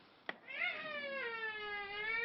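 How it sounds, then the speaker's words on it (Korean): A cat inside a storage shed gives a long, drawn-out meow that slowly falls in pitch after a short tap, heard up close with faint background noise. "이 고양이 창고 안에는 지금도 고양이들이 이렇게 있습니다."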